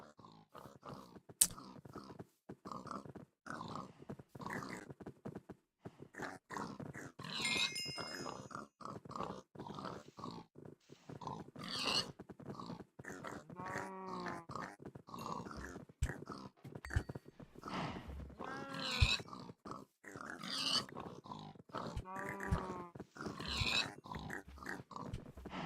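Pigs grunt repeatedly in Minecraft with the GTNH modpack, snorting and squealing in irregular bursts with clattering game noises, close and fairly loud over a busy, layered soundscape.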